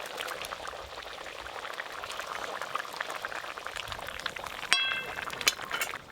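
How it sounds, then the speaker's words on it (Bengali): Fried singi fish pieces slide into a bubbling village-style fish curry with ridge gourd, a steady simmering boil with soft splashes and a couple of sharp clinks of a utensil against the pot near the end. "এবার ভেজে রাখা মাছগুলো দিয়ে দেবো।"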